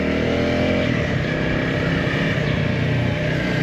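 A car pulling away on a road in Turkey, with a steady, continuous engine drone and road rumble that holds at an even level throughout, with no voices.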